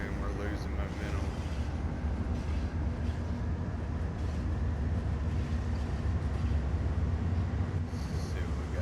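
A game-simulated train on the downhill San Bernardino line in Train Sim World 5 rumbles with its engine under throttle, a steady, loud, continuous low drone that carries through the whole stretch without letup.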